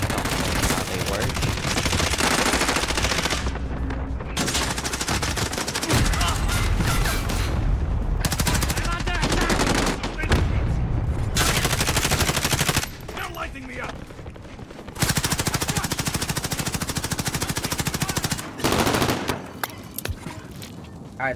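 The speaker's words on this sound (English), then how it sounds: "Allied cluster strike inbound." Cluster strike bombardment in Call of Duty Warzone on Rebirth Island: dense, loud bursts of rapid explosions and gunfire rolling in repeated waves, with brief lulls between barrages.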